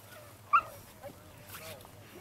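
A beagle lets out a sharp yip followed by soft whimpers, faint and fairly close, over a quiet outdoor background.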